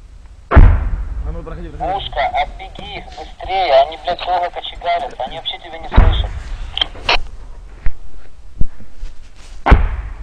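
An automatic grenade launcher (AGS) firing on a combat frontline, with several heavy thumps and bangs of varying distance scattered across the clip while a radio crackles and people talk over it.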